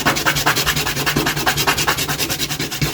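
Sandpaper rubs back and forth on a small plastic timer knob part from an air fryer, a steady fast rasping rhythm of about six strokes per second, close and alone without speech.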